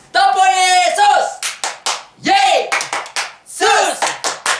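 Children at a Sunday school service do the "Tepuk Yesus" clapping routine, chanting loudly together and punctuating the chant with rhythmic bursts of claps in short groups.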